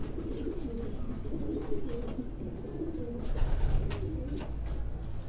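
A racing pigeon coos in soft repeated low burbling calls, close and steady, with faint background noise and no talk.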